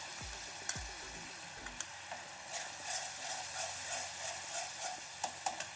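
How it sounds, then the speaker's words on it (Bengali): Grated tomato and seeded green chilli paste fry in a pan for a katla fish curry, a bright steady sizzle broken by spatula knocks and scraping strokes, near and without voices. "একটু ভালো করে ভেজে নিই"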